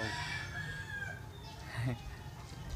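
A rooster crows repeatedly with drawn-out calls while chickens cluck around a garage in provincial Dumaguete, the crowing moderately loud and near over a low murmur that may include quiet voices.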